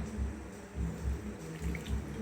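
Water being poured onto chicken pieces in a bowl as they are mixed by hand, a soft, close, rhythmic watery sloshing with no talk.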